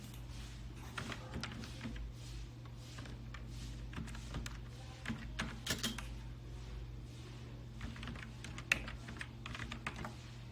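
Someone types on a computer keyboard while filling in an online form, a run of soft, close key clicks in irregular bursts over a quiet, steady low hum.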